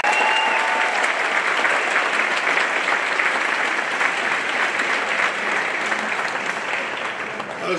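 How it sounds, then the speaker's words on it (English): A crowd at the Eau Gallie High School Class of 2023 graduation claps for the speakers. The applause is dense and sustained, fading slightly toward the end. "Let's give our speakers one more round of applause."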